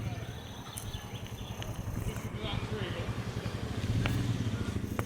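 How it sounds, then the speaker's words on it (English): A black Royal Enfield Himalayan motorcycle arrives at a supporters' camping and ride meet in Wales, its low single-cylinder engine rumbling steadily and growing slightly louder under background chatter and voices. "here comes a black Himalayan."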